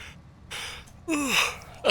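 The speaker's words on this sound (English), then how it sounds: "Sorry about the yawn, folks." A person gives a single drawn-out yawn, starting with a breathy intake and sliding down into a falling, voiced groan near the end, close and fairly loud.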